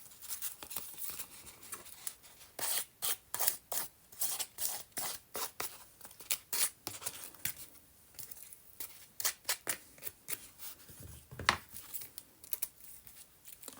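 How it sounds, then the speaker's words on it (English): Paper edges of an overhang tag decorated with watercolor, stamps and gold are crinkled by hand, producing close, soft rustling and crackling bursts in an irregular rhythm throughout, with no talk. "I'm just crinkling these parts that are sticking out"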